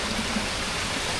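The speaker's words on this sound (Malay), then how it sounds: "Boleh tengok ni sungai dia." A clear forest stream on a mountain trail in Terengganu flows in a steady, close rushing wash of water, with no voices.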